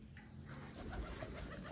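Crested pigeon, a rare breeder bird, cooing softly amid a busy, rumbling background over a couple of seconds, the coos low and muffled rather than prominent.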